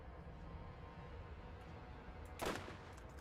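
Gunshots in the video game Borderlands, a faint bed of rapid shooting with one louder burst late in the clip and no speech.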